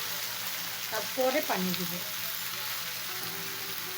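Chicken and vegetables fry in a pan with a steady, close sizzle that runs throughout, while a voice speaks briefly over it.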